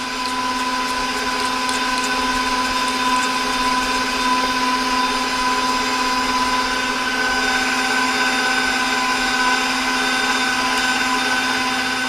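An electric hand mixer whips egg whites for chocolate mousse, running at a steady high-pitched whine with a constant buzzing motor hum, close and loud, no voices over it.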